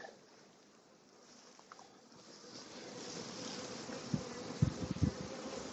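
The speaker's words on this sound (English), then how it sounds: "Nice bunch of bees." A dense swarm of honeybees buzzing close by, high up, the drone building steadily louder over the seconds.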